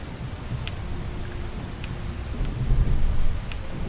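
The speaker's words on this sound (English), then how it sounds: "I already lowered the sound for the thunder, and it's still deafening" Heavy rain pours steadily in a video game thunderstorm in Skyrim while low, rumbling thunder swells and rolls louder near the end, with a few sharp drips cutting through.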